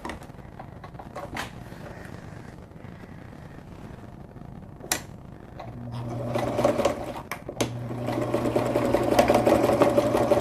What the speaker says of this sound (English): That's why I'm saying the sewing machine is optional, but I'm gonna use it.